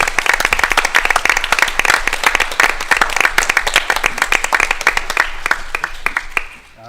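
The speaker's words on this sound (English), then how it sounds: "let's give them both a nice round of applause as well" Audience at a school board of education meeting applauds state qualifiers, a dense burst of many hands clapping steadily for several seconds, loud and close, then tapering off at the end.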